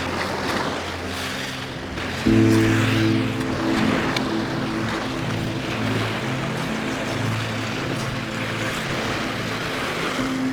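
Steady sea surf washes along a shore in a continuous hiss, with a low droning hum running underneath.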